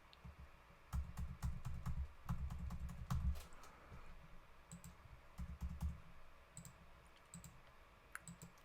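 Rapid bursts of keystrokes on a computer keyboard while entering a credit-card number pattern at an online store checkout, close and clear, with short pauses between clusters of clicking and no voices.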